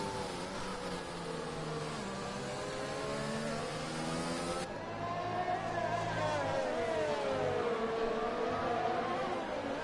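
Race cars in an F1 video game league race at the Spain round roar continuously with rising and falling engine whines as they accelerate and shift, loud and close throughout.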